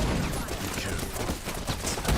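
Sustained gunfire in the shooter game Wild Assault, loud and near, with rapid overlapping shots forming a continuous fusillade that swells again at the end.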